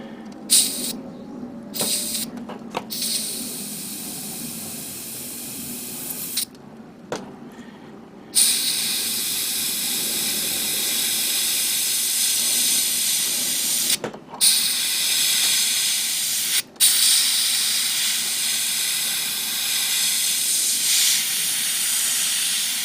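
An airbrush sprays paint onto a 1/100 Master Grade Freedom Gundam 2.0 model kit, hissing in several short bursts, then long continuous blasts, a steady close airy hiss with brief pauses between.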